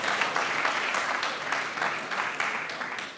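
A comedy show audience applauds steadily, a dense and even patter of many hands clapping at moderate volume throughout.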